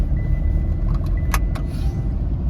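A road vehicle carrying a group setting off on a rainy-day outing gives a continuous loud engine rumble close by, with a few faint clicks and rattles over the steady drone.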